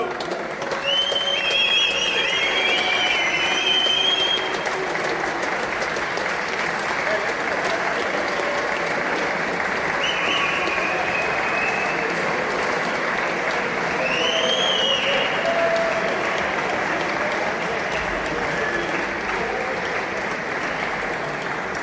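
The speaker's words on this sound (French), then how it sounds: "Un tonnerre d'applaudissements pour eux." Sustained applause from a large MMA event crowd welcoming the arriving Irish team, steady and loud throughout, with scattered cheers and whistles rising above the clapping.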